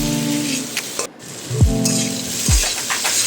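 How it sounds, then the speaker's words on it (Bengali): Cauliflower frying with chilli, garlic, honey and ground pepper sizzles steadily in a pan while being stirred, with a few scraping strokes of the spoon and light clinks against the pan, close and clear. "এবার ভালোভাবে পুরোটাকে মিক্স করে নেব।"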